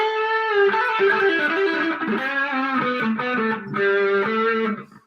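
Electric guitar through a gain pedal on a Positive Grid Spark desktop amp plays a sustained, gritty overdriven chord progression, loud and close, with the strings ringing out before it cuts off at the end.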